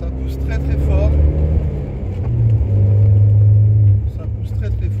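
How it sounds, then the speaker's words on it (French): Opel GT Roadster accelerating under gentle throttle, a low engine rumble that rises and swells into a strong, sustained drone before easing, heard from inside the car. "Là, je mets les gaz doucement. Et là, on est vraiment collé au siège."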